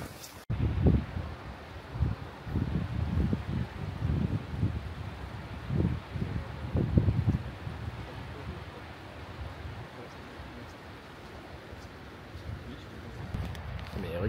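Strong mountain wind in the Faroe Islands buffets the microphone in steady, rumbling gusts that swell and ease throughout, loud and close, with no other clear sound.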